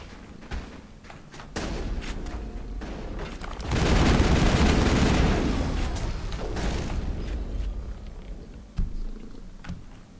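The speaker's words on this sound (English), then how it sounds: "Are you guys shooting through the wall?" Muffled gunfire coming through a wall in Mass Effect, dull thumping bursts and rattling volleys that swell into a heavy rolling barrage midway, then ease off into scattered thuds.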